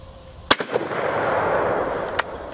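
A single loud No1Mk3 rifle shot cracks out at an outdoor range, followed by a brief echo and a steady hiss of background noise, then a fainter distant report near the end.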